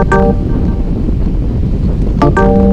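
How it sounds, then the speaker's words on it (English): Wind buffets a microphone on a bike during a group cycling ride, a loud, steady roar close up that runs through the whole stretch, with brief tonal chirps near the start and end. "the wind is in my face"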